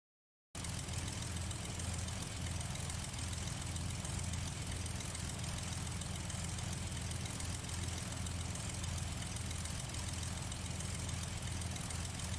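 Simulated Cessna 182 piston engine idling while taxiing in Flight Simulator X, a steady uniform drone with a low throb that continues unchanged throughout, starting after a brief silence.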